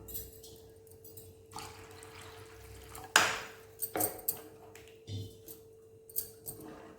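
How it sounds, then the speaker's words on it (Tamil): Water splashes and trickles into a metal pot in short bursts, with a few clinks of the vessel and a faint background hum. "இப்போ இந்த டைமில் தேவையான அளவு தண்ணி ஊற்றி நம்ம வந்து கொதிக்க வச்சிடலாம்"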